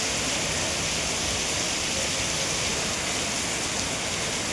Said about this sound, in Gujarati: એકદમ જબરદસ્ત વરસાદ ચાલુ છે.